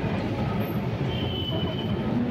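A Kolkata tram rolls into the Shyambazar tram depot with a steady low rumble and faint rail squeal, moderately loud and continuous.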